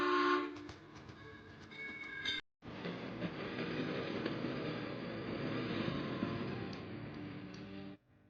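A Darjeeling Himalayan Railway narrow-gauge toy train running between New Jalpaiguri and Darjeeling in West Bengal, a short whistle-like tone at first, then a brief cut and a steady rumbling rattle of wheels and carriages.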